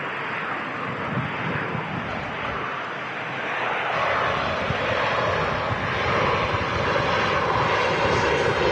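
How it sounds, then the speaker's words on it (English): A Ryanair airliner arriving at Manchester Airport, inbound from Brussels, gives a steady broadband jet roar that holds for the whole stretch and swells slightly louder toward the end, with no talk over it. "Ryanair in from Brussels."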